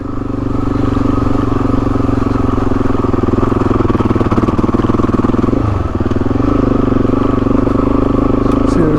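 A motorcycle labours uphill in a low gear, its engine a loud, steady drone throughout with a brief dip in the middle before the revs pick up again.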